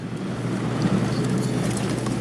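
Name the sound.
wind blowing in the canyon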